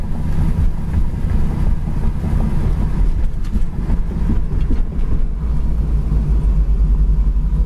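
A loud, deep V8 engine of a 1968 Chevrolet Camaro rumbles steadily while accelerating in second gear to 4,000 RPM, its throaty roar filling the whole stretch with no voices over it.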